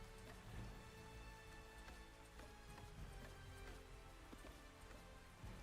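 Rain falling in ARK: Survival Ascended, a steady hiss of drops on surfaces with scattered sharper ticks, quiet and even throughout.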